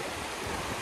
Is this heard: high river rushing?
yes